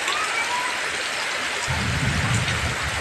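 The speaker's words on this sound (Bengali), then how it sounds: "প্রচণ্ড বৃষ্টি এবং চারদিকে অন্ধকার অন্ধকার এবং প্রচুর বৃষ্টি হচ্ছে" Heavy rain pours down steadily and loudly, a dense hiss with a low rumble building in the second half.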